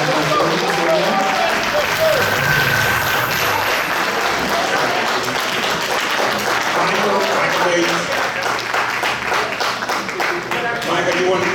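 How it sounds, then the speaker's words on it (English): A round of applause at an award ceremony as honorees come up to receive citations; sustained, loud crowd clapping filling the whole stretch, with some voices mixed in underneath. "let's give them a round of applause."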